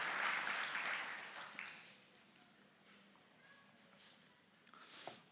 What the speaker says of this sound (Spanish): Demos un aplauso al Señor, amado hermano.